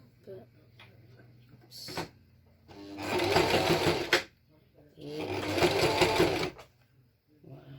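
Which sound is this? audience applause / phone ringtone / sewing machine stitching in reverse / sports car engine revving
sewing machine stitching in reverse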